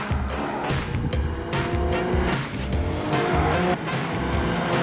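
A Porsche 718 Cayman GT4 with a manual gearbox screams at high revs on a race track, its engine loud and continuous with sharp rises and brief dips at each gear change, plus tire squeal.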